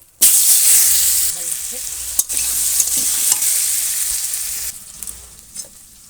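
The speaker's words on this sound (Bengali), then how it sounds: "এখন তেলের পরে জিরে দিয়ে দিয়েছি এখন আলুগুলো ভেজে নেবো" Potatoes frying in hot oil with cumin seeds, sizzling loudly and steadily close by, with a few scraping stirs partway through and the hiss easing slightly toward the end.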